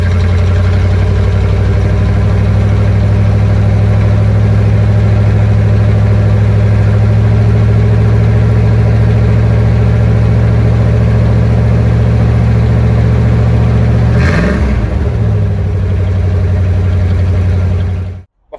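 A Corvette engine idles with a loud, steady low drone, rises in one short rev near the end, then cuts off abruptly.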